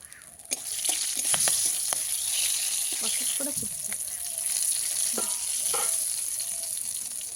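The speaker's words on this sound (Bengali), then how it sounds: "এই ফুলকপি ভাজা তেলের মধ্যে গোটা গরম মশলা শুকনো লঙ্কা তেজপাতা ফোড়নে দেব" Whole garam masala, dried red chillies and bay leaves crackling in oil left from frying cauliflower, a sudden sizzle bursting in then a steady close hiss with scattered pops and stirring clicks.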